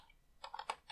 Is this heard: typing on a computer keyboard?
yes